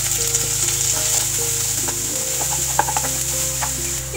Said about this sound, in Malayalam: നമുക്ക് ഈ ചെറുതായിട്ട് അരിഞ്ഞു വെച്ചിരിക്കുന്ന സവാള നമുക്ക് ഇട്ട് കൊടുക്കാം